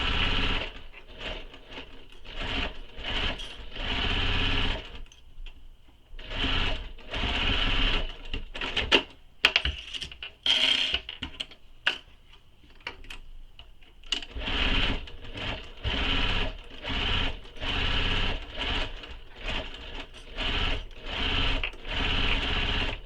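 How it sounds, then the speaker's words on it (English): A sewing machine runs basting stitches around a handbag in repeated bursts of rapid whirring, stopping and restarting, with a quieter gap of handling in the middle. "baste it all the way around, and you can just go right on top of the previous basting stitches you made earlier"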